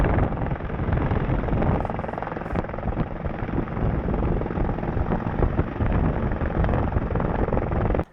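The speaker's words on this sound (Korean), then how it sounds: "헬기가 몇 번이나 오가며 추락자를 찾고 있었습니다." A rescue helicopter flies over rugged mountains in the Northern Alps, its rotor throbbing loud and steady for several seconds with wind buffeting the microphone, then cutting off abruptly.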